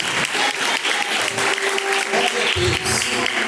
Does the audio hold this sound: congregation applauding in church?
yes